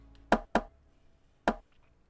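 Three sharp, dry rim-shot hits from a beat's drum kit ring out alone, two in quick succession and a third after a short pause, each short and clicky with little decay.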